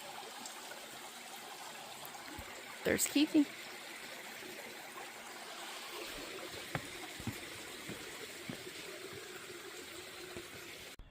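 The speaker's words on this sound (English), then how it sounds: "Look at this little creek." A small creek near Springer Mountain trickles and babbles steadily in the background while a person speaks briefly over it.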